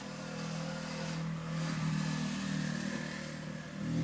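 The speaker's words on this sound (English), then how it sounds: "Not much traffic out there today, but I just heard that one." A single vehicle engine passes outside on a quiet road, a steady mid-pitched hum that swells and fades at moderate distance, heard from indoors with no talking.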